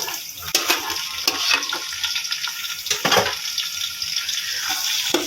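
Potatoes tossed into browned garlic paste for a Karachi-style aloo chana biryani give off a steady, bright sizzle. Sharp scraping and clattering bursts from stirring cut in and out, and nobody speaks.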